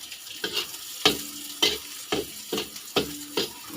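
Garlic and onion sautéed in a pan for a creamy mushroom sauce, a low sizzle punctuated by about eight rhythmic spatula strokes and scrapes, close and distinct, with no talking.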